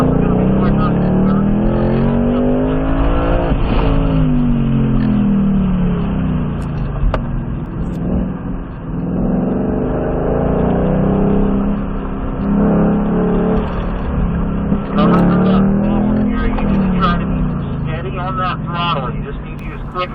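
A Ford Mustang Mach 1 on a race track at a performance racing school revs up and down through gears, loud engine sweeps rising and falling repeatedly while an instructor talks over it.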